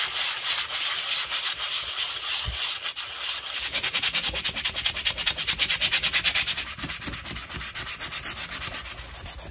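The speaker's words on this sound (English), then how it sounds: "Now I'm going to a finer sandpaper to start cleaning it up." Finer sandpaper rubs a handmade wooden knife handle for a Mora 2000 copy in steady, fast back-and-forth strokes, a loud close scratchy hiss that quickens in the second half, with no talking.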